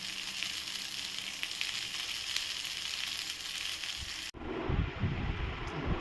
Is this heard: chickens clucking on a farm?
no